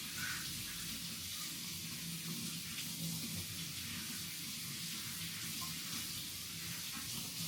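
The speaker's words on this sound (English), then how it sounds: "All right, so I'm gonna rinse this off." A kitchen tap runs steadily as food is rinsed under it, a continuous close hiss of water with no breaks.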